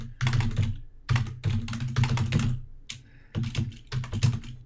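Quick bursts of keystrokes on a computer keyboard while entering PHP code, clattering in several close, loud runs separated by short pauses, with no voices.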